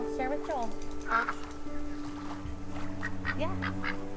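A duck in That Dragon, Cancer quacks several times in short, nasal bursts over a constant bed of soft game ambience and music.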